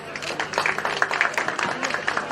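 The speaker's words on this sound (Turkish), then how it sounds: "Bir alkışlayalım bakalım." Wedding guests applaud at a Valentine's Day civil marriage ceremony, a lively spatter of hand claps close by with faint voices mixed in beneath.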